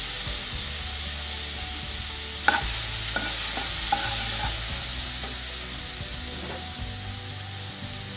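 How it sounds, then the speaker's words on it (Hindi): Two medium-sized tomatoes frying in a nonstick kadhai, a steady soft sizzle with occasional spoon stirs and scrapes, close and continuous, with no talking. "मैंने एक नॉनस्टिक का कढ़ाई ले ली है। अब मैं इसमें टमाटर डालूंगी।"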